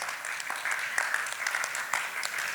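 Keynote audience applauding at a TILT 2025 talk, a steady, moderately loud patter of many hands clapping at once, with no voices over it.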